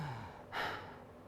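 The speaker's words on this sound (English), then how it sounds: "gasping like that all day long is not healthy" A single sharp gasping inhale through the open mouth, a short breathy rush demonstrating chest and mouth breathing, close and clear against a quiet background.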